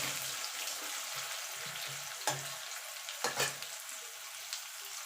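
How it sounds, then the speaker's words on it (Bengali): Onion sizzles and fries in a pan with oil after the garlic, a steady soft crackle broken by a few sharper bursts and stirring clatters, close and fairly quiet. "পেঁয়াজটাকে একটুখানি ভাজা ভাজা করে নেব"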